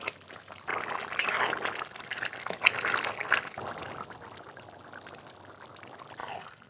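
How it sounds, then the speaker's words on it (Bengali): Chicken and small-potato ghugni being stirred in a pan to thicken: thick, wet sloshing and scraping close up, busiest early on and then fading to soft bubbling, with no voices. "এবার এইভাবে একটু নেড়ে নেব নেড়ে একটু ঘন করবো"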